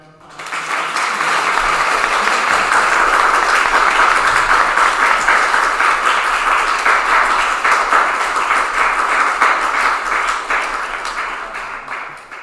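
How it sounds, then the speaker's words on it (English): An audience at a university rector debate bursts into a round of applause for the candidates, rising quickly and holding a loud, dense clapping roar for about ten seconds before tapering off. "So I want everyone to give the candidates a round of applause."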